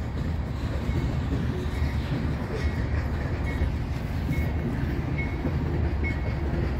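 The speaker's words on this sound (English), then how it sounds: "We got eastbound loaded coal drag and a southbound manifest." A freight train rolling through Hobson Yard in Lincoln, Nebraska, with a loaded coal drag and a manifest led by locomotives, giving a loud, steady, close rumble of wheels and cars throughout.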